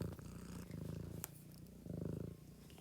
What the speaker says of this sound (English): Can you hear my cat purring?